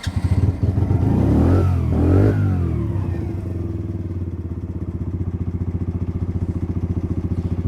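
A motorcycle engine idles while warming up from cold, starting with a louder, busier rev for the first few seconds, then settling into a steady, even, pulsing idle at close range with no talking.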